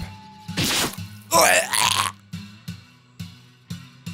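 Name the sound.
stabbing sound effect in The House in Fata Morgana video game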